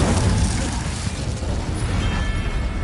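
An Incendio fire spell cast during combat in the Hogwarts Legacy video game, giving a dense, loud, continuous roaring blast that holds steady for nearly three seconds with a rumbling low end and hissing highs.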